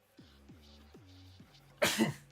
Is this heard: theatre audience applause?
no